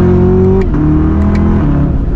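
Chevy Camaro ZL1 1LE V8 engine revving loudly up close as it downshifts, with the pitch stepping down at each gear change and a deep, continuous rumble throughout.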